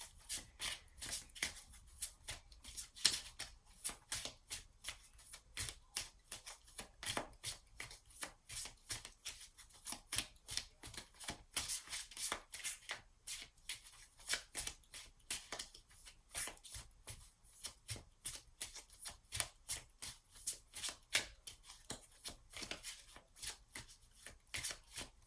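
Continuous rapid riffling and slapping of oracle cards being shuffled by hand, close and fairly quiet, steady for a long stretch with no talking.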